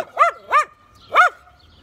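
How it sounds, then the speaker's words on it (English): A dog in Serbia gives three sharp, close barks, two in quick succession and a third after a short pause, with no other sound around them. "That's the dogs."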